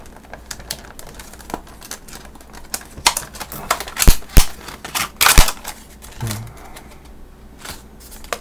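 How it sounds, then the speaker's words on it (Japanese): A new switch-equipped USB hub (model U2H-YS4BBK) is unboxed, with scattered crinkles, clicks and sharp snaps of packaging being opened, growing louder and denser midway before tapering off. "早速開封していきます"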